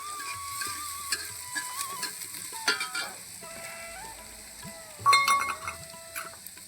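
Onions and cumin sizzle and get stirred in a pan for a village-style pork curry cooked outdoors, a soft crackle with scraping sounds and animal bleats and other background noises around it.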